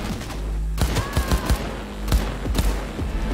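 Gunfire in the video game Cyberpunk 2077 crackles out in a quick string of sharp shots over a low, steady game hum, loud and close.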